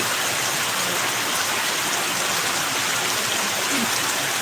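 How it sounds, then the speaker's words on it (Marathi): Steady rain falling during a Marathi live chat, a dense even hiss across the whole stretch, close and continuous with no voices over it. "पाऊस वाढलेला आहे"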